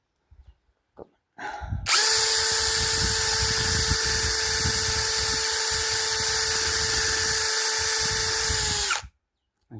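A power drill works on a Peugeot 404 tie rod end dust boot, running in one long, steady, high whine for about seven seconds. It starts up after a few brief handling knocks and then stops cleanly.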